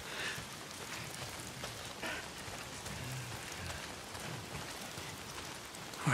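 Steady rain pours down in the video game Days Gone, an even wash of drops on surfaces that continues without letup and without any voices.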